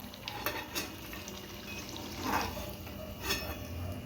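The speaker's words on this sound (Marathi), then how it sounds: "आता आपण काही मिरच्या टाकून घेऊ आणि तळून घ्यायच्या" Green chillies fry in hot oil for vada pav, giving a quiet, continuous sizzle with a few louder bubbling swells and faint clinks, and no talking.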